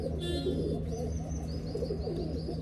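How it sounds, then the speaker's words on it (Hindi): Red Cheena Dhanne pigeons cooing, a low steady murmur of soft coos close by with faint chirps above, continuing without pause and without talk. "ये लाल चीना धन्ने वाला कबूतर है"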